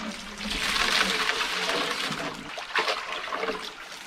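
Water rushes steadily through a gold panning sluice lifted out of a stream in Ireland, a close, continuous splashing flow that surges and eases, heard alone without talk.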